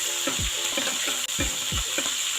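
Chicken pieces for afritada render their own fat in a pan, giving a continuous loud sizzle with rhythmic stirring or spatula scrapes repeating about every half second, close and without voices.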